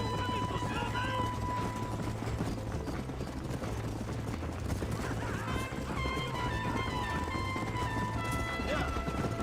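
Horse galloping in the Western video game Red Dead Redemption, a steady rhythmic clip-clop of hooves with a whinny, layered under game music and spoken dialogue throughout.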